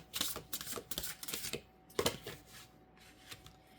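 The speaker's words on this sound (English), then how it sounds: "Let's get you one of these oracle cards." Oracle cards being shuffled and drawn by hand, giving a run of quick papery flicks and riffles, a sharper snap midway, then softer scattered handling, close and alone without speech.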